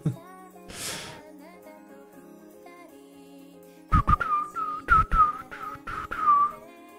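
A person whistles a tune unevenly over background music, with a few short breathy bursts and clattering noises mixed in near the end; the whistling is close and moderately loud.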